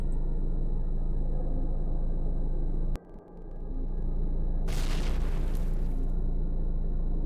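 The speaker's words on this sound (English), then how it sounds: "Snot gobbler explosions." Snot gobbler explosions in the zombie survival game Cataclysm DDA go off as a sharp boom, then a burst of hissing noise a couple of seconds later, over a steady hum of game sound.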